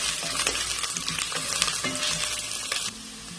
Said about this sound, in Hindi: आप इसको हल्का सा फ्राई करके फिर आप सालन में डालेंगे इसको